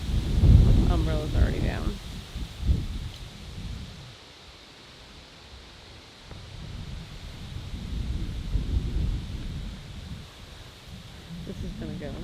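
Hurricane Ida's wind and rain roar in a steady outdoor wash, gusting stronger at the start and again later, with low rumbling buffets against the microphone and brief talking over it.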